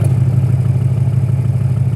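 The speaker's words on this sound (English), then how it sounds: "The RS1 mode actually does nothing but open the exhaust valves." An Audi RS6 Avant idles with its exhaust valves open, giving a loud, steady, deep drone with a faint mechanical clatter and no change in pitch across a couple of seconds.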